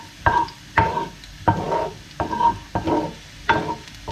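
Garlic frying in a pan is stirred quickly, with about six rhythmic scraping strokes over a steady sizzle, close and moderately loud, with no talk.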